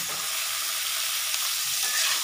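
Onion and tomato sauté in hot oil for a dry beef coconut fry, giving a loud, even sizzle that holds steady, close up, with a faint stir in the middle.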